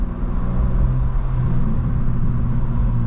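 A 2025 BMW M2 with M Steptronic cruises city streets, a loud, steady low engine rumble and road drone heard from inside the cabin, with no talking.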